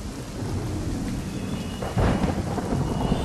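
Heavy early-morning rain in Ahmedabad roars steadily while a deep thunder rumble swells midway, loud and close, with no voices.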